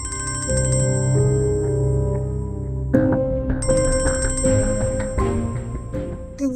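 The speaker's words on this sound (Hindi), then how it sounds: "रिदा का फोन होगा ना" A mobile phone rings with a steady electronic melody, loud and continuous, repeating its tune without any talking.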